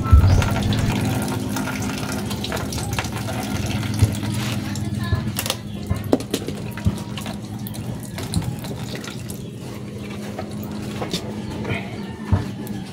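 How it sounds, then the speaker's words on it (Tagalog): Engine coolant drains out of a car engine during cylinder head removal, a steady splashing flow running throughout with faint clanks and a person talking over it. "So, i-drain natin ang coolant. Ubusin natin."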